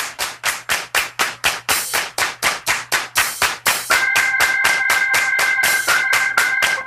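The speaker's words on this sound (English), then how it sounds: "Clap your hands." Hands clap in a steady, even rhythm of sharp, loud claps, close by, with a sustained tone joining partway through and carrying on beneath the clapping.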